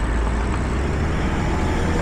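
A bus passes close to a cyclist on the road, a steady, loud engine and traffic roar that stays even throughout with no voices.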